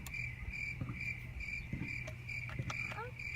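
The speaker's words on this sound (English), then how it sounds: "Should have cricket sounds every time we have to load." A cricket chirps in quick regular pulses, clear and steady, with a few soft knocks and faint background sounds underneath.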